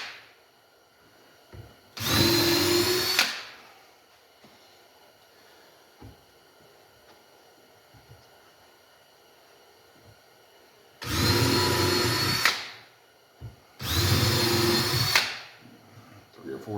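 A power drill drives screws into a wooden home-made Langstroth bee hive in three loud, close bursts, one short and two longer, separated by quiet gaps with faint handling sounds.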